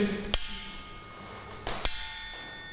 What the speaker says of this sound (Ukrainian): Чуєте глухий дзвін такий?